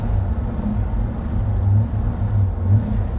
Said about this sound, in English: Best part of starting the 5-liter V8 is that when you start it, you feel happy, just like me right now.